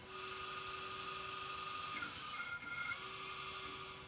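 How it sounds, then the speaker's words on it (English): A tape drive whirs with a steady high hiss and hum, and a brief shift in its whine marks the tape reversing direction partway through; close, continuous, no talk. "That sounded like the tape changed directions."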